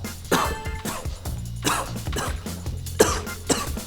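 Several harsh coughs in a row from a man with a sore throat, close and loud, with throat clearing between them and no speech.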